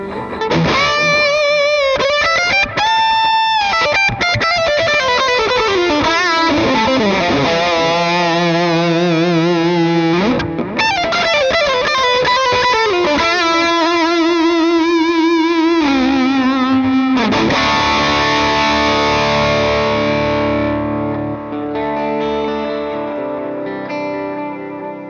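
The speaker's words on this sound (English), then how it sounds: "Let's go ahead and dime both gains really quick." A humbucker-equipped electric guitar plays through a Fender Super Sonic 22 head with both gain channels fully maxed, giving thick, saturated chords and sustained lead notes that ring out and decay, loud and unaccompanied.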